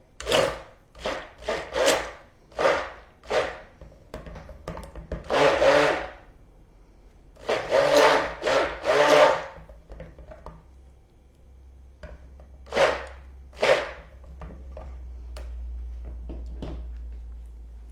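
A stick blender mixes soap batter in short repeated pulses, buzzing bursts separated by brief pauses, with a low hum lingering near the end.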